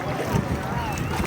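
Wind and water rush past a boat out whale shark watching at Oslob, Cebu, a brief, steady, close wash with gusty microphone buffeting and faint voices beneath.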